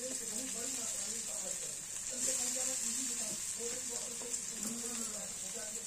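Four boiled potatoes go into a hot spice tempering and fry with a steady sizzle and bubbling hiss that persists throughout, stirring subtly audible.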